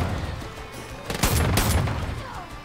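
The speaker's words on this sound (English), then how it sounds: "Did you just fire off a flare?" Sharp burst fired in the Far Cry 5 video game, a flare shot ringing out loud and close, followed by a crackling, rumbling tail that fades over the next second or so, with no voices.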